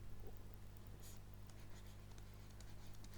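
Chalk or marker scratches across a board in short strokes, faint and close over a low steady background hum.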